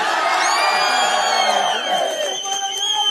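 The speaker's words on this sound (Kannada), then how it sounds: "ಅದು ನನ್ನ ಕಿಚ್ಚನ ಚಪ್ಪಾಳೆ." A large crowd roars and cheers loudly and continuously, with whoops and shouting blending into a sustained wash of noise.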